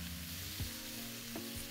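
Methi leaves stir-fry in a pan with a soft, steady sizzle, a couple of brief stirring scrapes breaking through; quiet and close, no voices.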